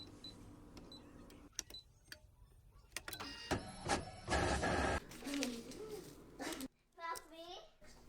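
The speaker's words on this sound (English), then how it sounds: "manually positioned the printed pattern on my printer to enlarge it on the printer" A home printer printing a sewing pattern for a leather beret, its mechanical whirs, clicks and feed bursts rising in the middle, with a voice and other talk around it.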